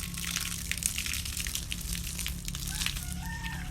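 Water poured by hand over black moss in an orchid pot gives a steady, close, hissing splash that runs unbroken throughout, with faint background noise and a few bird calls.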